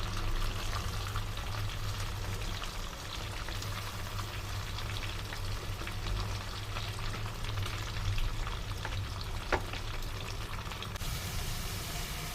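Onions and cabbage with curry leaves frying in a pan, a steady, dense sizzle throughout with a low constant hum beneath and occasional faint stirring clicks, no talking.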